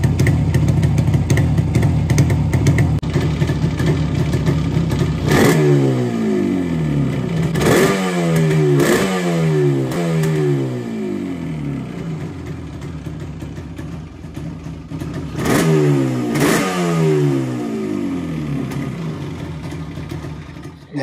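A Yamaha RD 350 two-stroke motorcycle fitted with expansion chambers idles loudly close by, then blips the throttle in several sharp revving bursts that rise and fall, with a second cluster of revs near the end.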